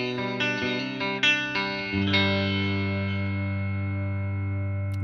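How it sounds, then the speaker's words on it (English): Clean electric guitar through a Supro S6420 Thunderbolt amp, a few bright picked notes followed by a sustained chord ringing out clearly and slowly fading. "hear how bright and clean and crystal clear this amplifier is"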